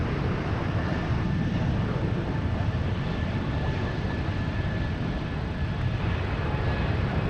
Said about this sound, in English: Such a beautiful takeoff.